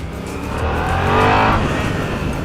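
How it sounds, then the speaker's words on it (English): Stock exhaust on a motorcycle revving up and easing off, a loud, steady engine note that swells near the middle before settling, with no talk over it. "Stock exhaust sits somewhere between the throaty rumble of a cruiser and the whiny pitch of a sport bike"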